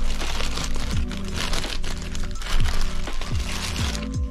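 A plastic bag is opened and crinkled during unpacking, with close, irregular crackles and rustles.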